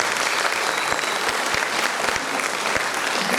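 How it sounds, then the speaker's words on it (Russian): A large audience at a song contest final breaks into sustained applause in honour of the Orsha district, a dense, even wash of many hands clapping that fills the hall at a steady level. "я попрошу аплодисментов в честь Оршанского района"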